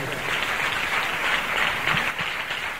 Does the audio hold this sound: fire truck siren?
no